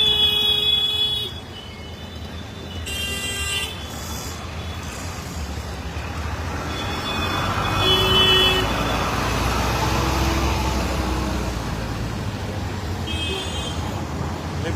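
Congested morning road traffic in Kopri, clogged by private company buses: a continuous rumble of engines with several short horn toots scattered through it, and no talking.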